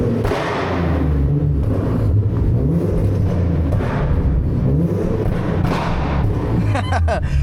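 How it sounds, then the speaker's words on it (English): A loud, deep exhaust from a tuned Nissan 370Z rumbling, heard from outside, with sharp cracking pops and thuds bursting through the drone at irregular intervals. "here's what it sounds like from the outside"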